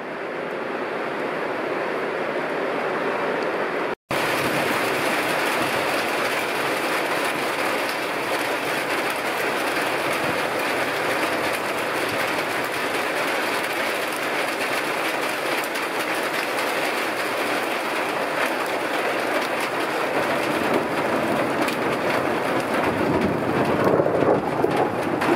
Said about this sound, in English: We just had a really hard downpour come through here for about a half an hour.